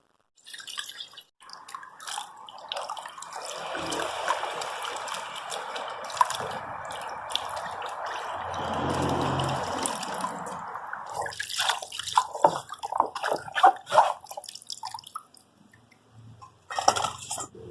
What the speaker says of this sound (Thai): ก็จะล้างน้ำให้สะอาดเลยค่ะ